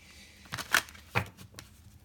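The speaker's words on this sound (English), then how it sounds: "I just want to shuffle these ones really good." A deck of cards is shuffled in a few quick riffling bursts, close and soft, with quiet gaps between them.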